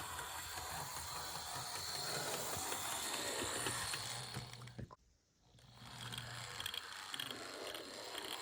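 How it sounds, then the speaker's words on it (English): Quiet mechanical whirring and rattling of small gears in an HO scale model locomotive runs steadily, dips briefly into near silence, then resumes. "That's just the sound of the gears moving around"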